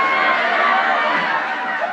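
A dense crowd chatters steadily at an outdoor gathering in Maine, many overlapping voices forming a loud, continuous murmur.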